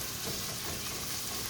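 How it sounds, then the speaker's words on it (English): Pork frying in a pan for fried rice: a brief, even, close sizzle with fine crackling and no pauses. "I'm going to go ahead and add my pork"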